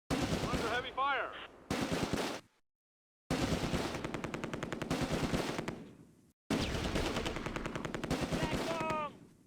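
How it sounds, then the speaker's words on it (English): Heavy machine-gun and rifle fire in the Close Combat war game, set in Operation Market Garden: rapid rattling bursts in three long stretches separated by brief silences, loud and close, with a voice talking briefly. "Under heavy fire."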